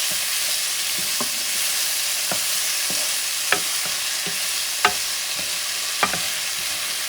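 Tomatoes fry in a pan with a constant hiss of sizzling while a utensil stirs them, giving a series of sharp scraping taps against the pan, with no talking.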